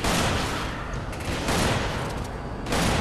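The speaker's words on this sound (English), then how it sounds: "there's people shooting at us" Rapid bursts of gunfire from enemies in the video game Resident Evil 5, a dense, loud, continuous fusillade with swells in intensity, no talking over it.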